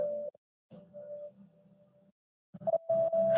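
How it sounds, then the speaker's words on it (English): Long, eerie tonal calls drift in and out with pauses between them, soft and resonant like whale song, ending in a louder cluster of moans. "Yes, it's the whale sounds."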